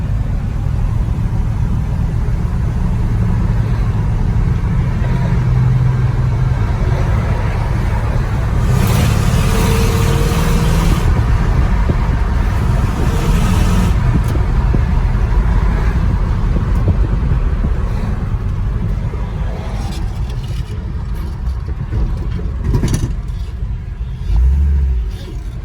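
Engine of a 1959 Apache truck rumbles while driving, a loud low drone mixed with wind buffeting and occasional surges as it accelerates.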